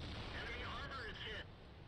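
A heavy M103 tank's cannon fires in a video game, aimed at a T29, a deep booming blast with a rumbling tail that cuts off sharply, while someone talks over it.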